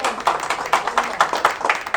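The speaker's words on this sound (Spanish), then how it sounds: "Denle un aplauso a Cristo." A church congregation claps in a steady rhythmic beat, roughly four claps per second, moderately loud and close, with no talking over it.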